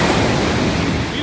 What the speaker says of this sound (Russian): И здесь такой шум моря, прям настоящий-настоящий.